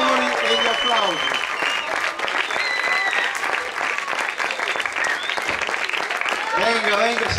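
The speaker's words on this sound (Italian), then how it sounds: "che invito sul palco per gli onori e gli applausi" A crowd applauds steadily and loudly for the owner of Trattoria Cristofori as she comes on stage, with sustained clapping throughout and voices and calls audible over it.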